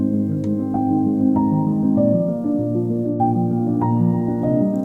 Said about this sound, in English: let's listen just to the splice reverb first.